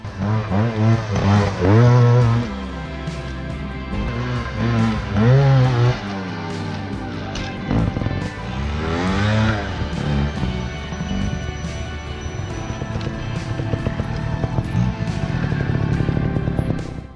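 Sherco trials motorcycle picking its way along a rocky trail, engine revving up and down in short bursts with blips and idling between, close and fairly loud throughout.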